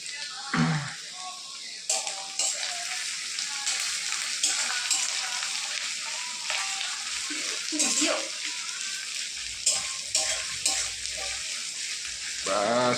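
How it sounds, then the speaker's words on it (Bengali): Garlic and ginger frying in oil for a chicken dish: a continuous close sizzle punctuated by stirring scrapes and soft knocks from a utensil in the pan. "এখন রসুনটা দিয়ে দেবো, আদাও দিয়ে দিব, কারণ একটু ভাজা হলে ভালো হয়,"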